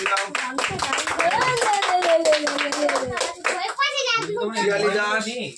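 Children clap their hands in a quick, uneven rhythm at a birthday gathering, close and loud, while a voice talks and sings over the claps.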